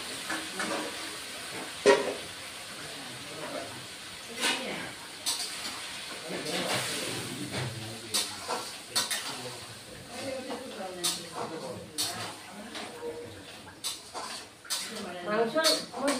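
Mutton and potatoes stir-frying in a pan for kosha, with a soft continuous sizzle and intermittent scraping stirs, fairly quiet under a person talking.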